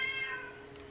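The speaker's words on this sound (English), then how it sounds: "sorry about my cat in the background" A house cat meows in the background during an online team-based action game session, a brief, faint mewing call heard alone at low level.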